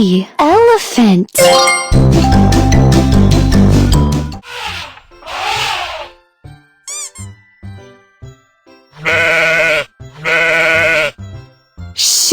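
Sheep bleat in a series of loud, close, wavering calls broken by pauses, mixed with bright jingling chimes and a child-friendly voice speaking between the animal sounds.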